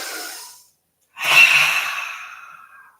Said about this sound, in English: A cleansing breath first.